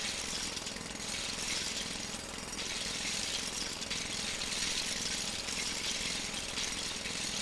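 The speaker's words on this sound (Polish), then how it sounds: "Idziemy po, dalej po młot pneumatyczny." A jackhammer in the video game LEGO Worlds pounds continuously as it digs, a dense, loud, rattling hammering that never lets up, with no voices over it.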